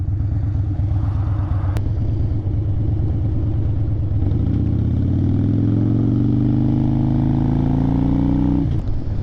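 A 2016 Harley-Davidson Dyna Street Bob FXDB being ridden, its aftermarket exhaust pipes giving a loud, continuous low rumble that climbs steadily in pitch as the bike accelerates, then drops off sharply near the end.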